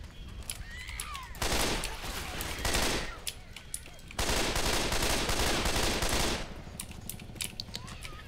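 Automatic gunfire in the video game Left 4 Dead 2 rattles out in two long, loud, continuous bursts, separated by quieter stretches with scattered shots and background game noise.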